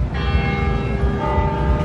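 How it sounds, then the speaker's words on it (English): Large church bells ring loud and close beside a river, a steady sustained peal with overlapping tones and no talking. "there's the bells from the church"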